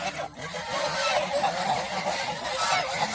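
Domestic geese on a goose farm honk continuously for a few seconds, loud and close, with overlapping calls forming a dense, noisy chorus.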